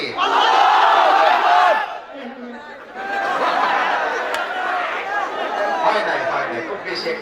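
Married men in a crowd at a Bengali waz gathering shout takbir in unison, a loud massed roar that breaks off, then surges again as a long, rougher wave of voices.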